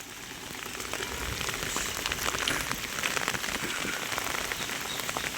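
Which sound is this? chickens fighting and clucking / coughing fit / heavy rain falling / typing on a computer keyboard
heavy rain falling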